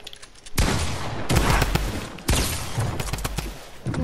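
Heavy shotgun blasts in a first-person shooter video game, several loud booming shots with echoing tails fired at an uneven pace, close and dominant with no talking over them.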